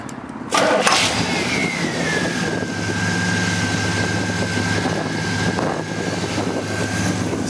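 A 1967 Oldsmobile 442 convertible with its 400 V8 cranks briefly, catches and settles into a steady close idle, its low rumble carrying under a rising whine.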